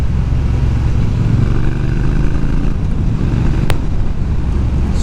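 A motorcycle engine runs with a loud, close, steady rumble under heavy wind buffeting, holding a fairly even pace rather than clear sharp revs.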